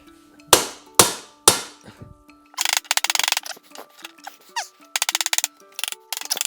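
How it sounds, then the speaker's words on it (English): Three sharp metallic hammer strikes on an aluminum bicycle frame ring out and decay, followed by a burst of rapid clanging and rattling impacts on metal. "now let's get another tool that we never ever use when we're working on bicycles, a hammer"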